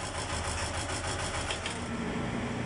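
An enclosed lifeboat's engine runs steadily with a quiet, even mechanical hum and faint rhythmic ticking, heard alone.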